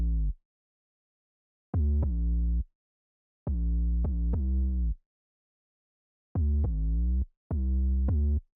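Gliding synth lead from a dark pop instrumental, playing four loud, sustained phrases with pitch slides, separated by short silences; no voices.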